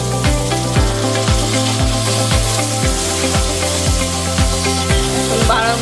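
Tomato paste stirred into spices frying in oil for a traditional tilapia tomato curry: a constant, loud hiss and sizzle with light scraping, partly buried under background music.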